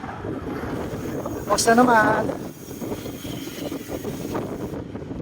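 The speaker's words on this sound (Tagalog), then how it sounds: "Lakas ng hangin." Strong wind roars against the microphone during a solo motorcycle ride on the road into Masinloc, a steady broadband rush with a brief louder gust partway through, while someone speaks over it.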